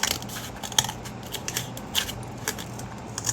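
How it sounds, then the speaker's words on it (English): Sharp scissors snip through cardboard in a quick run of crisp, close cuts, with a brief blade click standing out among several short crunching strokes over a faint low hum. "cut the cardboard"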